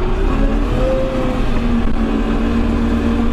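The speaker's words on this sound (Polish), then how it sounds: "Ta charakterystyka pracy silnika całkiem fajnie to brzmi." A LOVOL M1104 tractor engine drones steadily with a rising pitch as it accelerates, loud and continuous with no voices.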